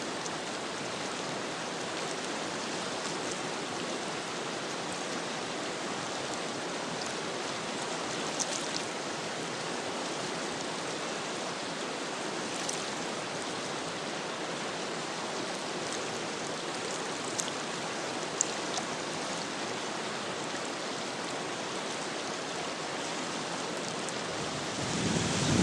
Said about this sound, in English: listen to the music of the river, because you don't get to hear this that often